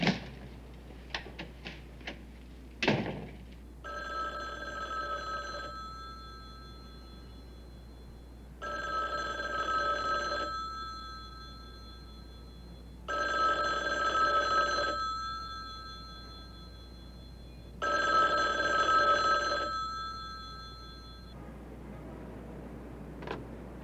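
A telephone rings and nobody picks up, four long electronic ring bursts with even pauses between them. A few sharp clicks and knocks come first, like handling a receiver or dialing.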